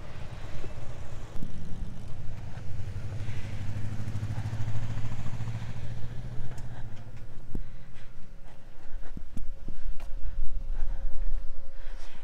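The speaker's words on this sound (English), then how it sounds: "And here comes a whole motorcycle pack." A pack of several motorcycles rumbles past along a road by lava-rock trails, the engine drone swelling loud and near, then fading as the bikes move off.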